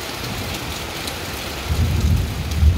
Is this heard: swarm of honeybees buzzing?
no